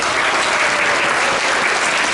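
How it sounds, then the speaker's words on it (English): Steady, dense applause from a live audience at a community aging event, loud and continuous across the whole moment with no talking over it. "Round of applause for Lena"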